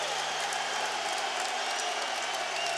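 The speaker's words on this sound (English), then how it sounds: "This crowd is rumbling." A packed arena crowd at a Bellator MMA fight roars in a steady, dense wash of noise with no pauses, loud and continuous after a knockout.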